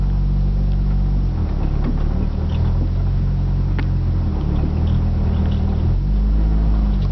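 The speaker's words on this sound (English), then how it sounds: "So this is how my car sounds when I drive it without music." A 1990 Toyota Celica drives down a potholed road, a steady low engine and road rumble inside the cabin with faint intermittent rattles and knocks, no music or talk.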